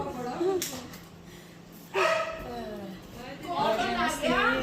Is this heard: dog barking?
yes